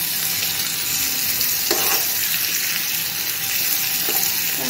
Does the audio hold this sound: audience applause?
no